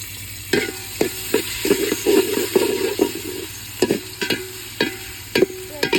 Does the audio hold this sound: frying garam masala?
yes